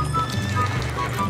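A horse in the video game Red Dead Online clip-clops with quick hoofbeats and gives a whinny, close and fairly loud over a low game background.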